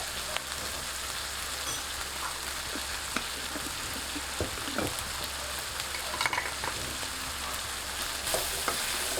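Pork stir-fried with fresh chili and garlic sizzles in a steady, fairly quiet crackle, dotted with light clicks and scrapes as it is tossed around the pan.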